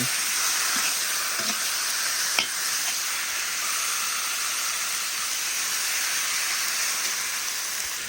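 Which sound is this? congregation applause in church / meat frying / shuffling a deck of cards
meat frying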